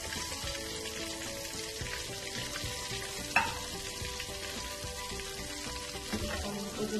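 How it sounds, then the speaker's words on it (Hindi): Hot chicken wings frying in oil over a low flame, giving a steady close sizzle and crackle throughout, with one sharp utensil tap partway and no talking. "इनको भी हल्की आँच पर फ्राई होने देंगे"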